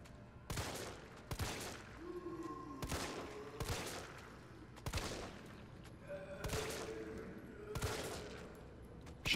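Shotgun blasts in the Resident Evil 3 video game, about six heavy booming shots spaced roughly a second apart, loud and close, with game ambience and faint tones between them.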